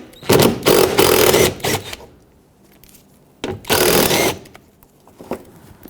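Power tool spinning out 10mm bumper bolts on a Nissan Pathfinder: several loud, close whirring bursts of about a second each, then a pause of quiet handling, and one more longer burst.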